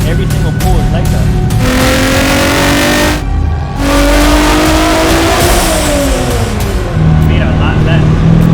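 A Nissan Z with upgraded turbos revs hard and loud, its engine note climbing through pulls with brief dips between them, a close, sustained roar.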